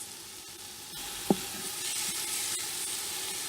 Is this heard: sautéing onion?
yes